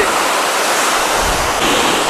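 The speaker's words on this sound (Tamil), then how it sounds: "ஆஹா, எவ்வளோ பெரிய அருவிடா" A large waterfall, Sundatti Falls near Ooty, roars as a steady, loud broadband rush of falling water with no pauses over the short stretch.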